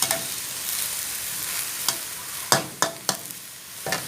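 Mixed vegetables with minced pork stir-frying in a pan, a steady sizzle broken by several sharp spatula scrapes and taps toward the end, near and without speech.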